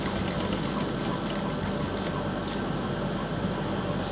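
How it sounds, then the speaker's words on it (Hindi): A sewing machine runs steadily, stitching along a fabric strip for a neck and sleeve gota-and-lace design, with a continuous close whirring drone and no pauses or talk. "इस तरह से हम इस स्ट्रिप पर भी सिलाई लगा लेंगे।"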